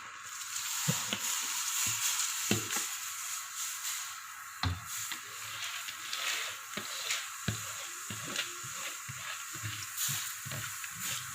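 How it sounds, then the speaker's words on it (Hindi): Rice for Pakistani-style zarda sizzles in a hot pot with lemon juice, and a spoon scrapes and clacks through it in irregular strokes over a steady, close frying hiss. "अब हम इसमें चावल ऐड करेंगे।"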